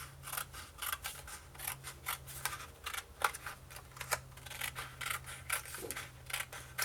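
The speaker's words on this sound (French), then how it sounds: "Alors, je vais la couper au ciseau, bien droite." Scissors cut steadily through a card in a run of quick, crisp snips, close and fairly quiet against a low background hum, with no talk.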